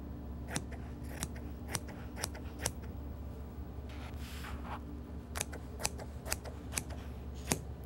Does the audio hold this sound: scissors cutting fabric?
yes